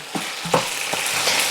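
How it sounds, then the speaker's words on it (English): Liver sizzles and spits in a hot pan, with a few sharp crackles and scraping stirs over a steady frying hiss. "And now I am frying a little bit my liver."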